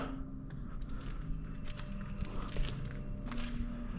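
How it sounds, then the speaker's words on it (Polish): Faint irregular tapping and scratching footsteps of birds walking on a roof overhead in an abandoned pot factory, with a low constant hum underneath. "Chyba ptaki sobie chodzą."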